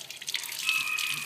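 Water runs from a tap to rinse out the bowl of a bamboo water pipe, a brief bright splashing and trickling stream heard up close with no voices.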